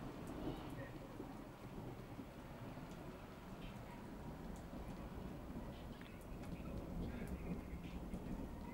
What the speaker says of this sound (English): It's a thunder boomer.